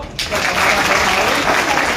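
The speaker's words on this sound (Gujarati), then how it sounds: "એ કર્મચારીઓ માટે તાળી પાડો" A brief burst of dense audience clapping for panchayat workers at a public gathering in Deodar, loud and close, starting abruptly and continuing steadily.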